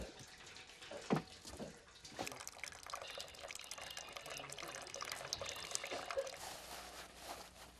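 Water from boiled milk curds drips and trickles through a hanging cloth strainer outdoors in Mongolia, a continuous soft patter with one brief louder splash near the start.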